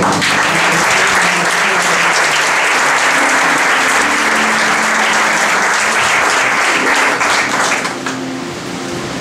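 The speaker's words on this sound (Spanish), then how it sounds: "me gustaría que usted le honre a Fernando con un aplauso." A church congregation gives a loud, sustained round of applause welcoming Prophet Fernando Ortega at a second-anniversary service, the thick clapping fading near the close.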